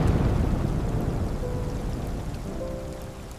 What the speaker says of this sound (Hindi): या अल्लाह, इतनी तेज बारिश।